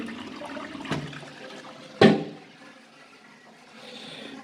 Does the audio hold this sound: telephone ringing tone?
no